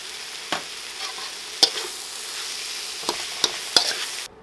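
Green onions and jalapeños stir-fry in a hot pan for spicy Thai rice noodles, with a soft steady sizzle broken by a few sharp utensil clacks and scrapes against the pan.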